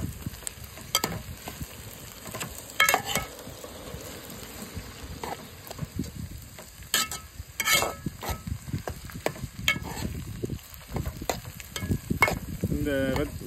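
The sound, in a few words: sautéing tomatoes in a pan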